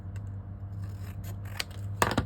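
Close scissors cutting card all the way around a die, several crisp snips ending in a louder pair of sharp cuts, over a faint steady background hum.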